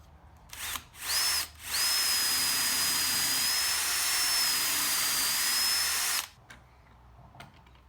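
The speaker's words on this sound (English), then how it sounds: "Setting the depth stop on the drill bit and remembering which holes you used." A power drill with a depth stop set on its bit runs loud and steady for about five seconds boring holes in a wooden board for a console table, with short bursts starting and stopping before and after.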